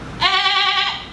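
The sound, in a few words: goat bleating, imitated by a performer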